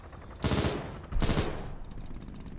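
Machine gun firing at targets with tracer rounds, heard as two loud, dense bursts of rapid automatic fire, each about a third of a second long, separated by a short pause and followed by fainter ringing clatter.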